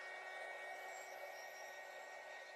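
A hair dryer blows steadily on a pumpkin lantern craft, a constant close airy whir with no breaks across the whole stretch.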